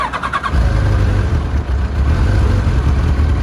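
A 1990 Kawasaki ZZR 1100 C1 motorcycle, already a little warm, cranks briefly, catches and settles into a loud, steady close-up idle.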